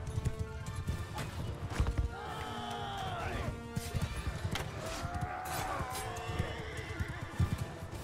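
A horse in the Mount & Blade II Bannerlord video game neighs and whinnies repeatedly over a steady clip-clop of galloping hooves, loud and close, with scattered clashing impacts mixed into the busy battle din.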